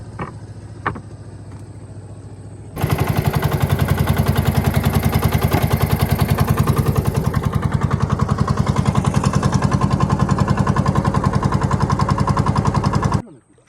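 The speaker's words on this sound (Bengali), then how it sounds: "এবার আমাদের নৌকা স্টার্ট দিয়ে আমরা বেরিয়ে যাবো" Fishing boat engine starting after a few quiet seconds, then running steadily with a loud, rapid, even thudding beat before cutting off near the end.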